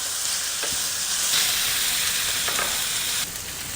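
Potato bhaji with fresh coriander being stirred in a hot pan, a steady close sizzle with scraping spoon strokes throughout, no voices.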